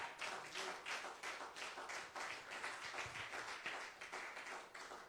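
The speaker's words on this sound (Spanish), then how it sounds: "Den un aplauso al Señor," Rhythmic clapping from a church congregation during a sermon, hands striking together in a regular beat of roughly three claps per second, evenly paced and fairly faint.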